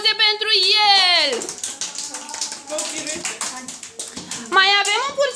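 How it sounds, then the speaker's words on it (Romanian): Applause and clapping for a child in a pig costume at a Halloween costume parade. Bursts of hand claps and taps sit between a raised adult voice at the start and the end. "Aplauze pentru el."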